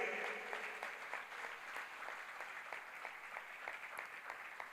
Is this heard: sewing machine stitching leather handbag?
no